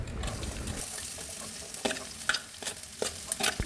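Sliced onions stirred into fried lentils with ginger in a hot pan for a healthy upma breakfast, a soft steady sizzle broken by scraping stirs and light clicks of the spoon, close and without talk.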